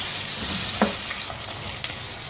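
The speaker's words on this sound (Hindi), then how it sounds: "और अब इस प्याज को 2-3 मिनट पकाएंगे ऐसे ही हिलाते हुए।" Sliced onions fry for mutton stew, a constant close sizzle in the pan with a couple of soft scrapes as they are stirred.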